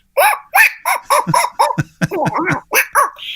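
A man imitates a Donald Duck-style squawking voice to catch a dog's attention: a rapid, loud string of about a dozen nasal, quacking yips close to the microphone, delivered alone without ordinary speech.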